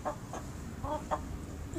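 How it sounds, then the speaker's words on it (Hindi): An aseel fighting rooster gives a few soft, clipped clucks spaced out over a couple of seconds, faint and close, with no voices over them. "फुल लड़ाकू मुर्गा है"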